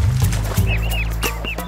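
A mother duck gives a few short, nasal quacks and clucks at close range, irregular and slightly overlapping, with a low murmur underneath.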